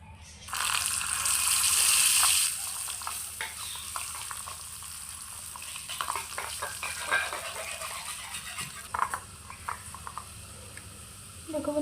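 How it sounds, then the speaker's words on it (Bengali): Potatoes fry in a tiny miniature pan in a village-style cooking setup, giving a bright sizzle that swells loudly at first, then settles into a steady hiss with light stirring clicks and scrapes throughout. "আলুগুলো ভেজে নেব"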